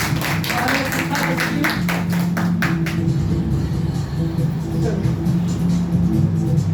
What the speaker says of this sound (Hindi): आइए एक बार जोरदार ताली बजाइए।